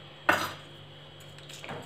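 A spoon stirs a cabbage or cucumber koshimbir salad in a bowl after a spoonful of hot tempering goes in, giving one clear clink of metal on the dish, then soft scraping and quieter stirring.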